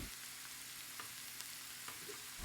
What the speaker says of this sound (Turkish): Hafif karıştırıyorum.